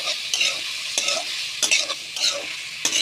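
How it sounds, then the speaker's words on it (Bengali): A spoon stirs a pan of fish curry with cut potatoes, several scraping strokes breaking through a steady close sizzle, with no talking. "দিয়ে হালকা করে করে নাড়তে থাকবো"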